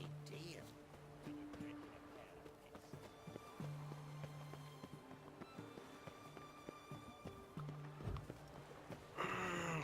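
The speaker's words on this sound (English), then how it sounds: "Oh, that's not Roach, that's just a horse." Horse hooves clip-clop at a steady trot in The Witcher 3 video game, with brief game sounds and muffled background voices; no clear neigh stands out.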